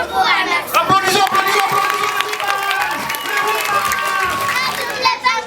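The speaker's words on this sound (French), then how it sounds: "Applaudissons" Applause and cheering from a school crowd at a Women's Day celebration, clapping mixed with loud children's shouts and voices all the way through, rising and falling without pause.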